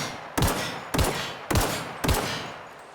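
Gunfire in the Outer Worlds video game as fences are shot down: four sharp, loud shots at a steady pace about half a second apart, each with a short fading tail and no talking.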